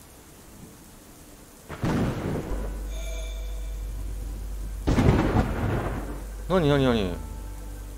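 Storm ambience in the Moncage puzzle game, where two heavy thunder cracks boom over continuous rain and a low rumble, and a voice speaks briefly near the end.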